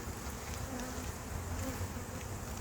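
Honey bees drone in an open hive: a low, steady, faint buzzing hum that holds without pause.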